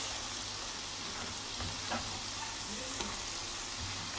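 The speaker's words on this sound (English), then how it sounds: "So now I'm adding my cabbage." Cabbage sizzles steadily in a hot pan for Jamaican steamed cabbage, a constant, even frying hiss with a few soft stirring knocks, close and moderately loud.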